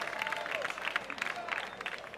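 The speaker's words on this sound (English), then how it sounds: "Crowd goes wild." A crowd at the 2014 Volcom Bowl-A-Rama skateboard bowl contest in Getxo cheers and claps steadily, sounding faint and distant throughout the short burst.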